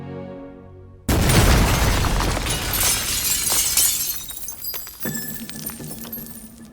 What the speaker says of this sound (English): a bomb is detonated right at the center of the hall